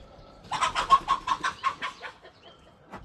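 Backyard chickens in a simple coop and run cluck in a quick, close burst of about eight calls over roughly a second and a half, then go quiet apart from a faint call near the end.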